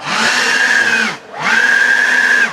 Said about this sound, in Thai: นี่เครื่องเป่าลมเครื่องเป่าใบไม้นะครับ